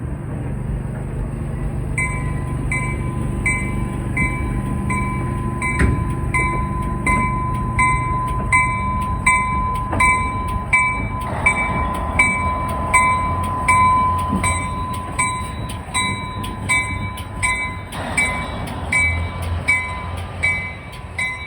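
Train cars built by Canadian Car and Foundry roll past in Connecticut with a steady loud rumble, repeated rhythmic clicks over rail joints, and a sustained high tone riding above the noise.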